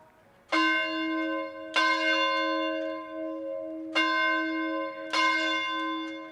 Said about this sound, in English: ringing the 1825 bell in the tower of the Bolton Community Church